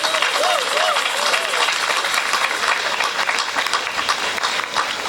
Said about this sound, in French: Applaudissons aussi pour eux.